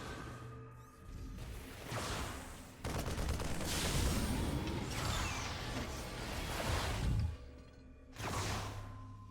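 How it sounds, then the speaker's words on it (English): A Reaper unit shoots during a StarCraft 2 Terran versus Protoss grand finals match, with rapid gunfire bursts and whooshing impacts layered over loud, continuous game battle noise and effects, with no voices. "I'm just gonna be seeing the Reaper taking a couple shots."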